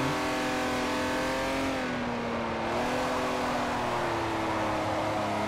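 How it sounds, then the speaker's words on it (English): Race car engine in Forza Motorsport 4 holding a steady high drone with a slight dip in pitch mid-way as the car slides, loud and continuous with no talk over it. "I just want to slide in this car."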